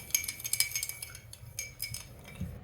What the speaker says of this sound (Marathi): आता याला आपण पूर्ण मिक्स करून एका साईडला विरघळवून घेऊया